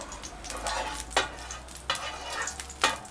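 Lard melting and sizzling in a hot pan, a steady crackle with a few sharp clinks of a utensil against the pot, close and moderately loud.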